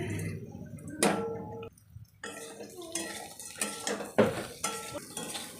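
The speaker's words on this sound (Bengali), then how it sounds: "এরপরে মাছগুলো দিয়ে দেব মাছগুলো দিয়ে ভালো করে ভেজে নেব আবার" Kachki fish frying with onions in a pan, with clattering utensil scrapes and stirring clinks over a low sizzle in a home kitchen, a voice talking in places.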